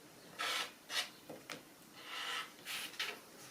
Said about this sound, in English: turning it round and trimming it